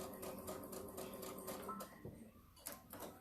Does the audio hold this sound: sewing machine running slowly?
yes